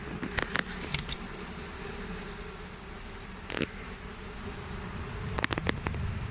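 Honeybees buzzing around an open hive during a brood inspection, a low steady hum with a few brief louder passes of individual bees close by.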